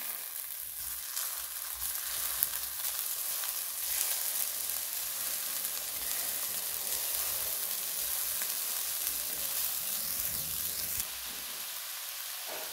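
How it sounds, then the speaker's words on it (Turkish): Meatballs sizzle quietly in a frying pan, a soft, even crackle that continues steadily throughout with no talking. "Şimdi köfteleri kızartıyorum."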